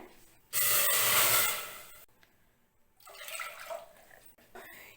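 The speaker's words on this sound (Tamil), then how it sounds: "இப்போ ஒரு ரெண்டு கப் தண்ணி இதில் நான் ஊற்றிக்கிறேன்" A loud burst of water pours into a pressure cooker for about a second and a half, then a pause, then a second, gentler pour.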